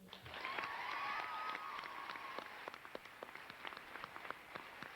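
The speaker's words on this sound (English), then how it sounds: "Give yourselves and each other a round of applause for your hard work, determination, loyalty, and friendship." Graduation ceremony audience applauding, a broad wash of clapping that swells quickly, then thins into scattered individual claps as it fades.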